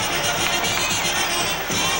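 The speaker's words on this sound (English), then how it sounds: "now the noise will begin to swell as he enters the ring and comes within sight of most of the crowd" A large boxing arena crowd roars and cheers continuously as a fighter enters the ring at the 1990 Julio Cesar Chavez vs Meldrick Taylor fight, a dense wash of voices that stays loud for the whole short stretch.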